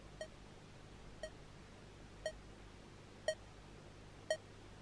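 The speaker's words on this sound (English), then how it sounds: "Oh, there's like a beeping" Evenly spaced electronic beeps from the Blindscape video game, five short tones about one second apart, clear but not loud over a quiet background.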